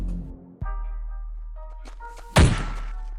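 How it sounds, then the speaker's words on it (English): Bat cracking a monster home run in MLB The Show 21, a single sharp thunk standing out over a quiet game background hum, with no talk. "Good, lefty-lefty. Absolute monster home run."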